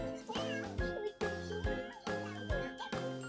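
Cartoonish meows repeat in a bouncy, chiming toy-like rhythm, like a jingle with bright tinkling tones.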